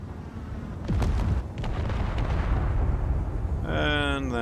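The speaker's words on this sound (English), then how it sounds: "Nope, that's gunfire." Rapid booming gunfire and explosive bursts from the video game Space Engineers, loud and continuous, ending with a warbling electronic tone.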